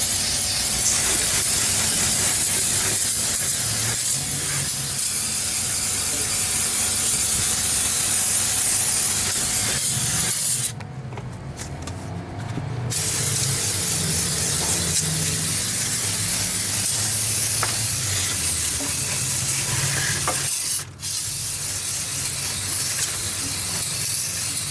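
Brake cleaner sprays in long hissing bursts around the radiator area of a Jeep Wrangler JK with a 3.8L V6, a close, continuous spray broken by two short pauses.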